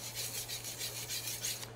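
A kitchen knife drawn finely along a sharpening surface, giving a steady, continuous scraping rasp in repeated strokes over a low constant hum.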